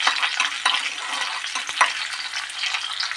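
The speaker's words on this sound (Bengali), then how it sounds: "তেলটা গরম হয়ে গিয়েছে এর মধ্যে আমি দিয়ে দেবো একটুখানি পেঁয়াজ" Onions fry in hot oil with a close, crackling sizzle broken by the scrape and clack of a spatula stirring the pan, loud and busy throughout with no voices.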